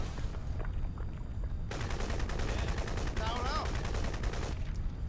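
Rapid automatic gunfire in Crysis Remastered aimed at a wrecked vehicle, a steady rattling stream of shots running through the whole stretch, close and dense, with a brief voice cutting in midway.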